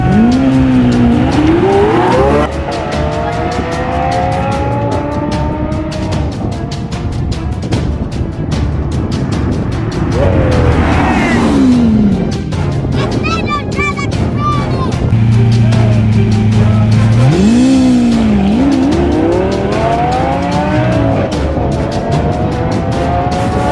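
Two Lamborghinis, an Aventador and a Gallardo, racing outdoors, with loud sweeping engine revs rising and falling through gear changes, near and continuous, mixed with tire noise and a busy background.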